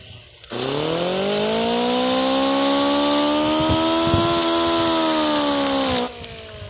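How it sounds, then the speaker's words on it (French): A Dremel rotary tool grinds rust off a metal part, a loud, steady high whine whose pitch sweeps slightly upward, then holds for about five and a half seconds before cutting off, with faint scraping contact noises mixed in. "une fois que vous avez fait le plus gros avec la Dremel"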